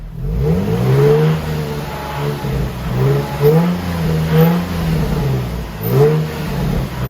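A stock VQ engine in a Nissan 350Z revs in a garage, loud and close, with several rising and falling throttle blips over a steady idle.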